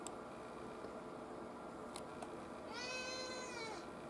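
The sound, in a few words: cat meowing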